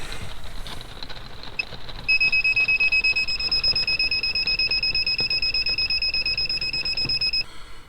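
A Swift Command control panel in a caravan sounds a steady, loud electronic alert, a continuous rapid beeping that starts suddenly and runs for several seconds before stopping, with no talking.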